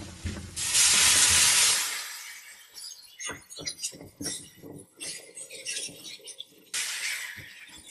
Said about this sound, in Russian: И добавляем 2 стакана молока.